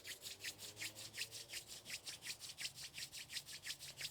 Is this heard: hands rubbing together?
yes